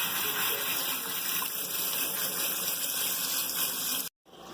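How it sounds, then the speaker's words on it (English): Aquarium water gushing from a Python hose over filter media, a steady close rushing flow that cuts off abruptly near the end. "that's how I clean my filters out, with the aquarium water that's coming out of my python"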